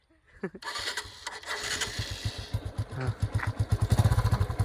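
A scooter engine is started after a few clicks and a brief crank, then sputters into a rapid, uneven putter that grows steadily louder as it runs, close by, with people talking over it.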